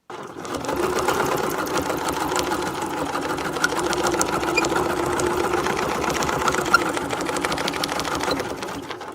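Sewing machine stitching a wreath design, a rapid even mechanical whir of needle strokes running steadily for several seconds at close range, with no voices.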